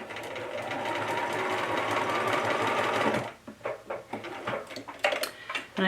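A sewing machine stitches a Laura Ashley bag made from a McCalls pattern, running in a fast, steady close-up whir for about three seconds, then stopping and giving a few short bursts of clicking stitches.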